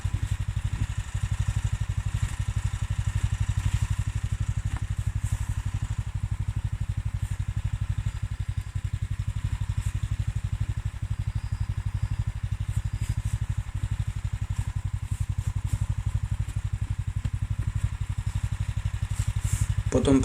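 A tractor fitted with dual wheels chugs steadily in a low, continuous engine drone as it reverses and pulls away, close and unbroken throughout.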